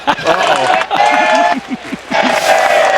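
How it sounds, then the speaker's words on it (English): Crowd cheering at a Men's College World Series baseball game between Coastal Carolina and Oregon State, loud and continuous with surges, mixed with close commentator talk. "And we got some cheering"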